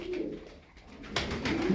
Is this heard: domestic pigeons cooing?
yes